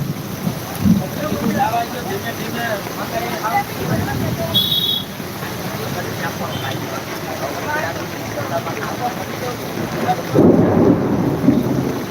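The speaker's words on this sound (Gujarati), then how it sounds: "આ વરસાદ બંધ નહીં થાય વરસાદ બંધ થવાનું નામ નથી લેતું" Heavy monsoon rain pours steadily in Jam Khambhalia with rumbling thunder, a dense wash of noise that swells louder near the end, while a person speaks over it.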